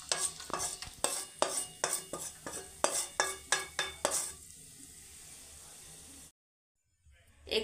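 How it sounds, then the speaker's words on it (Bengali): Two eggs with a little salt and pepper whisked with a spoon in a bowl, a quick run of sharp rhythmic clinks against the bowl that then stops, followed by near silence. "তারপর চামচের সাহায্যে এটাকে মিশিয়ে নিলাম।"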